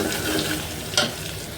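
Shrimp and sweet pumpkin curry cooking in a pan, a steady wet sizzle and bubbling with a brief sharper clatter near the middle, and no speech.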